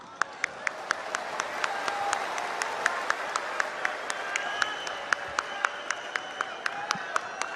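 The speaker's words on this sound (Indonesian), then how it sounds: "Kita berikan tepuk tangan yang lebih meriah lagi untuk Mas Ganjar Pranowo." An audience applauds a speaker, Ganjar Pranowo, at an Indonesian political rally ahead of legislative and presidential elections. Steady crowd clapping runs throughout, with sharp periodic pops cutting through the wash of hands.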